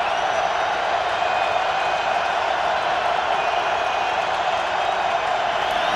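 A vocal crowd in Baltimore's stadium roars steadily throughout an NFL game between the Indianapolis Colts and Baltimore Ravens, a dense, continuous wash of cheering with no distinct peaks.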